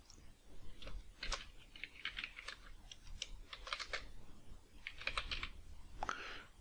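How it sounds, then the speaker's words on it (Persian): Someone types on a computer keyboard in short bursts of quick, light key clicks separated by brief pauses, close and fairly quiet, with no talk over it. "در حالتی که کیبوردمون روی انگلیسی باشه میتونیم تایپ بکنیم"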